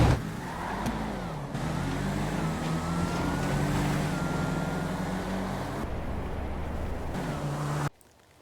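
A Mustang launches down a drag strip in GTA V and keeps its engine roaring loud and sustained at high revs for several seconds. The roar cuts off abruptly near the end.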